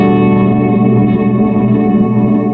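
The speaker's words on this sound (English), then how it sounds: "And then we got a long delay, dual left, right." Electric guitar through a Boss MS-3 set to a long dual left-right delay, sustained notes smearing into dense repeating echoes that wash steadily and loudly throughout with no gaps.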